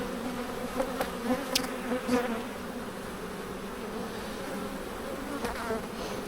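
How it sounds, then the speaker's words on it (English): Honey bees buzz steadily around a torn-down hive during an inspection, a dense continuous hum with brief louder passes of individual bees close by, and no talking. "Bees are getting a little bit annoyed with me now."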